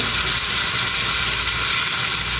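Chicken liver with yogurt in a hot pan, a loud continuous hiss of sizzling up close that masks any stirring, with no speech.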